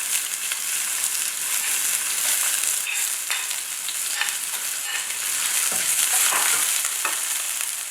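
Onion and pepper frying with browned cumin seeds (jeera) and fenugreek seeds in a pan for a Trini eggplant and potato curry, a steady close sizzle with scattered stirring scrapes and pops throughout.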